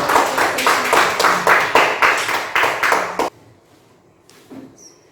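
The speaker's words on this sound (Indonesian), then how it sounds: "Bagus, tepuk tangan dulu kita semua." Children in a classroom clap in a rhythmic, evenly spaced pattern of about a dozen sharp claps, then stop abruptly, leaving near silence with a faint tap or two.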